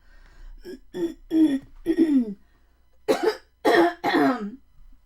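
A close, loud fit of coughing: a run of four harsh coughs, a short pause, then three more forceful coughs.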